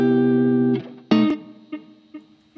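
Electric guitar run through an HX One effects pedal with the whammy switched off: a sustained, slightly distorted chord rings out and is cut, then a sharp strummed hit and a few softer picked notes follow, up close.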